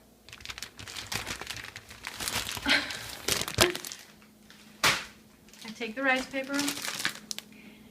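Crinkly, papery rustling and crackling of thin rice paper sheets being handled, close by, in bursts alongside brief speech.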